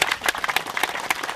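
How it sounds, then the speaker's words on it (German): An audience at an outdoor anniversary celebration for a village playground claps close and loud, with a quick, uneven rattle of many hands over a short burst and no talk. "Wir sollten alle auch an dieser Stelle ruhig noch einmal klatschen."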